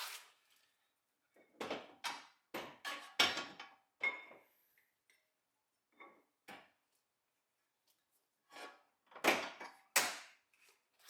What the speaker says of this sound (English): you can go ahead and pull the whole spindle out after you undo the bottom ball joint